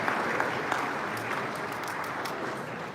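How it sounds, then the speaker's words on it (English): An audience at a show applauds steadily for three seconds, a dense, even wash of many hands clapping close by with no breaks. "Maybe one more round of applause for Kevin O'Connor"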